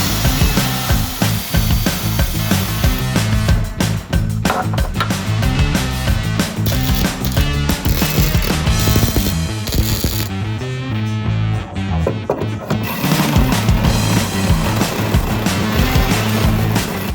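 A 3.5-inch hole saw cuts a hole during coilover conversion work on a Datsun 280ZX, a loud, continuous grinding roar with rapid rattling that runs nonstop for about seventeen seconds with no talking.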